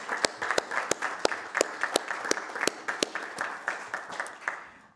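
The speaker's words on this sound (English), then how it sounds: "if we can just give you applause for..." A small group at a city council agenda briefing forum claps in a modest, fairly regular round of distinct claps that slowly tapers off and fades out.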